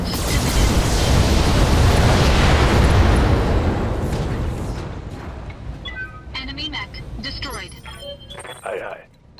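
A heavy mech in the BattleTech video game fires all its weapons at once, a loud sustained roaring barrage of explosions that slowly fades, followed by scattered mechanical beeps and effects.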